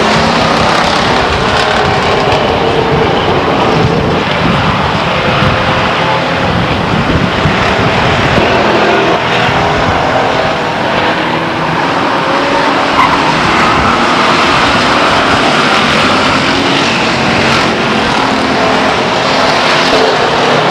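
Race cars roar around Stockton 99 Speedway, loud engines droning and rising as the pack passes close, with tire squeal and continuous mechanical noise filling the whole stretch and no talking.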